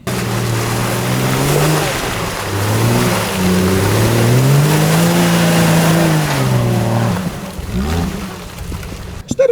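A Jeep Wrangler LJ's inline-six engine revs and accelerates loudly and steadily, pitch rising and falling over several seconds before cutting out near the end.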